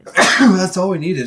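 A single short sneeze or throat-clearing burst from a player during a co-op Sons of the Forest survival game session, close and loud, followed at once by a person speaking.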